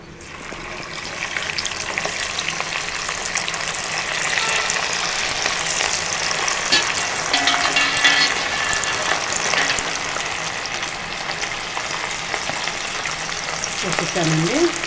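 Crunchy chicken pakodi pieces deep frying in oil, a loud continuous bubbling sizzle that swells as more pieces drop in, with faint clinks of a utensil toward the end.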